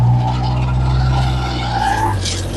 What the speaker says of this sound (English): Do you hear RPM increase in the engine?